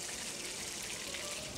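Half a cup of water pours into a blender in a continuous soft, splashy gush, faint and steady throughout.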